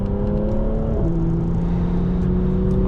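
A 2015 Mercedes C450 AMG rated at 367 hp accelerates hard, its engine note rising steadily, dropping briefly at a gear change just after one second, then climbing again. The drone stays loud and close throughout, with no voices.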